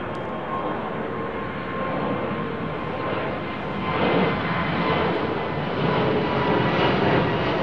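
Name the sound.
Finnair Airbus A350 jet aircraft engines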